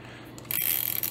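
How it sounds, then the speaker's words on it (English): Walz Envoy 35mm rangefinder camera with Sonnar lens firing its shutter release and advancing film onto the take-up spool, a short quiet mechanical whir followed by a sharper click, close up and alone. "When you push the shutter button, what happens is that the camera advances the film onto the take-up spool"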